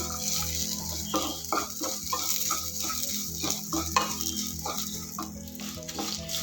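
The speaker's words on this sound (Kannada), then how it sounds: "ರೋಸ್ಟ್ ಮಾಡಿ ಸಣ್ಣ ಉರಿ ಇಟ್ಕೊಳ್ಳಿ ಬಾಣಲಿ ಬಿಸಿಗೇ ಎಲ್ಲ ಆಗುತ್ತೆ" Cumin seeds roast in a hot pan over a low flame, giving a soft sizzle broken by repeated scraping stirs at an uneven rhythm, close by and with no one talking.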